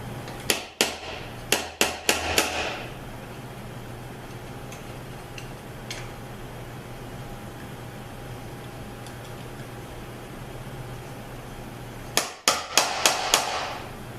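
Slide hammer pulling the front pump out of a Chrysler A-904 automatic transmission during teardown: a burst of sharp metallic impacts, then a long quiet pause and a second cluster of five or so close, ringing strikes.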